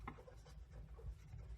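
Faint marker or chalk strokes on a board during an HTML lesson, soft scratchy writing at low volume over a quiet room.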